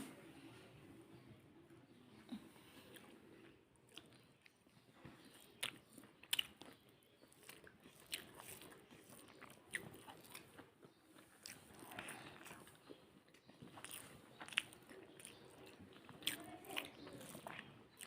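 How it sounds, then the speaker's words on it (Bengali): Crunchy chewing and biting on fried beetroot, a run of soft irregular mouth sounds close to the microphone with faint background noise. "আমি ফার্স্ট টাইম বিটরুট ভাজি খেলাম"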